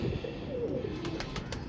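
A pigeon coos softly and steadily amid the sounds of a bird-keeping setting, with faint chirps and rustling in the background and no talking.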